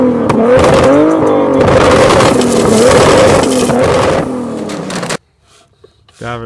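A Jeep engine revs hard while drifting, a loud droning note rising and falling over tire scrape and rumble for several seconds, then cutting out abruptly, followed by quiet and a faint rev at the end.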